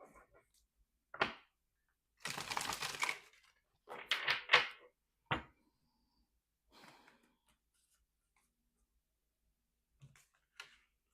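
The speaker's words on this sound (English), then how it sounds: "One more shuffle." Brisk bursts of tarot cards riffling and slapping together, a few separate shuffles with quiet pauses between, close up.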